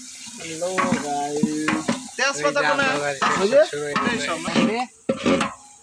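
Onions fry in a pan with a soft sizzle and occasional stirring clinks, heard beneath a person talking almost continuously in a domestic kitchen.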